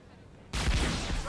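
Gunfire in a science-fiction TV drama (Babylon 5) bursts in abruptly after a quiet stretch, a loud, dense volley or rapid blast that holds for nearly a second.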